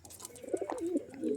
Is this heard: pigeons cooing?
yes